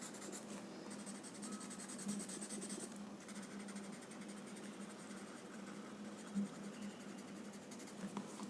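Shading on a Zentangle drawing tile being blended, a steady soft rubbing and scratching of the blending tool against paper, continuous and close for the whole stretch, with no talk.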